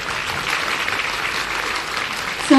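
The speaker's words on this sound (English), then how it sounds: "Can we get another round of applause?" Sustained, even clapping from an audience at a film festival's grand opening night, fairly loud and continuous throughout with no speech over it.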